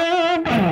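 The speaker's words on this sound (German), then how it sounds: "Dann schalte ich mir doch hier einmal einen Marshall Sound rein." Gibson Les Paul electric guitar played through a distorted Marshall amp sound, a sustained bright overdriven note that is cut off and followed by a rougher, noisier distorted chord, loud and close.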